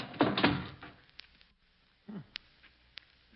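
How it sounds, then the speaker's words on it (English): A heavy old rusty door is pushed shut with a scraping, grinding heave, then a second drag and a few sharp knocks and clunks, close and fairly quiet in a still space. "Hurry, help me close the door before the archway falls on us."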